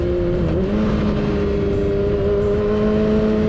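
A motorcycle engine revs during a downshift into first gear around 40 mph, a loud, close, steady drone whose pitch rises quickly and then holds high with no talking.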